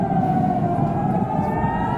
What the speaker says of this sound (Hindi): लगातार दोनों देशों के तनाव को कवर करते हुए सायरन बजाया गया